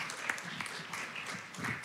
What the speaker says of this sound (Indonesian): Sekali lagi tepuk tangannya, saudara, untuk Pastor Marsha dan Pastor Sinta.